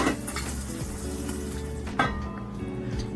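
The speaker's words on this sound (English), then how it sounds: "Make sure you cover the pot while it's searing." Beef pieces sear in a covered pot for pepper steak, a steady close sizzle with a faint clink of utensils near the end.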